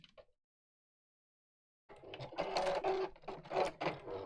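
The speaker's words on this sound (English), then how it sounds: "and then carry on sewing down that side" A domestic sewing machine stitches steadily for a couple of seconds after a brief tap and a long silence, running close and fairly loud with a slightly uneven rhythm.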